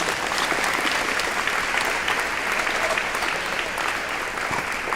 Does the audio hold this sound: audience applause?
yes